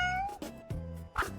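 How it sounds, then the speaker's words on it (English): A cat meows several times in quick succession, close and fairly clear, with short drawn-out cries and no speech over them. "It's a cat."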